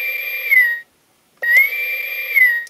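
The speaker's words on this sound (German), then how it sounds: "hört mal genau hin, hier bei diesem Rufston" An electronic call tone from a hobbyist's Star Trek door panel sounds twice, a clear high whistle-like note that climbs slightly in pitch, split by a short silent gap.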